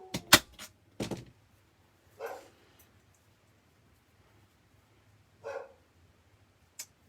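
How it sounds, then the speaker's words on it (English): A few sharp barks from a dog, spaced apart and somewhat distant, with long quiet gaps between them. "Do y'all hear my other dog down there barking?"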